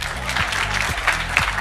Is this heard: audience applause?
yes